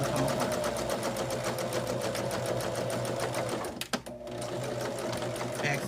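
Sewing machine back stitching a quilt block for a table runner, a steady close rapid mechanical whir that runs continuously, pauses briefly near the end, then resumes.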